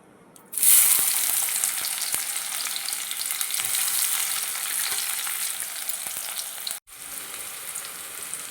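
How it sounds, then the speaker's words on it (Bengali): Sliced onion dropped into hot oil, bursting into a loud, close, continuous sizzle that starts suddenly, holds steady with faint stirring clicks, breaks off for a moment, then resumes, with no talk. "তেল গরম হয়ে গেছে। এবার আমি আস্তে আস্তে সবার প্রথমে দেব পেঁয়াজ।"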